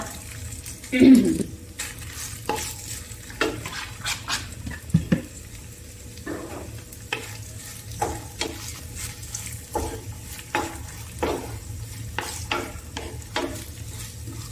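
Onions sauté in a pan for a chicken kunafa filling, a low sizzle broken by repeated spatula scrapes and clinks at a fairly close, uneven rhythm, with a voice briefly present.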